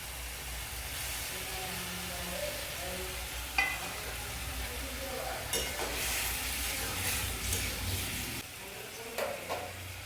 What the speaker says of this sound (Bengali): এবারে পনিরগুলো আমি ঢেলে দিচ্ছি।